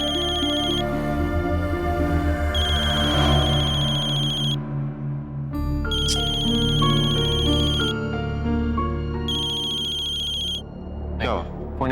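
A phone rings out repeatedly with no answer, a steady electronic ringtone pattern in repeated bursts over a soft musical bed, with talk underneath.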